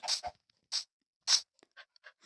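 A Minecraft dog in a video game pants in short, breathy huffs, a few stronger puffs spaced apart and then softer quick breaths, close and clear with silence between them.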